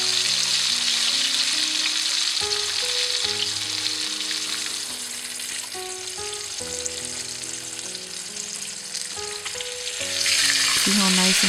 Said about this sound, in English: Make sure that the oil is really hot before you put the tilapia in.